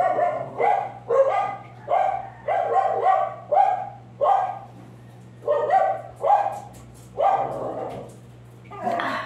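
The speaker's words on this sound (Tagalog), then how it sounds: "May aso pang maingay." A dog barks repeatedly in short, evenly spaced bursts, loud and close, with a steady low hum running underneath.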